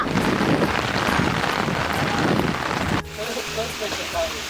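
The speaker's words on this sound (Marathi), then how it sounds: "वादळ वारा" Stormy wind and heavy rain roar as a dense, loud wash of noise for three seconds, then ease into quieter, patchier rain and gusts as a voice speaks over it.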